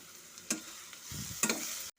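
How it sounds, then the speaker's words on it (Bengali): Rice, grated carrot and sugar are stirred together in a pan for carrot pulao, two quick spoon scrapes and a soft rustling mix under light sizzle, ending abruptly. "চিনির সাথে ভালো মতো করে গাজর আর চালটার সাথে ভালো মতো করে মিশিয়ে নেব।"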